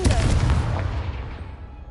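A Confringo spell blast in Hogwarts Legacy fires as a single booming burst at the start, then rolls off into a fading rumble over about two seconds.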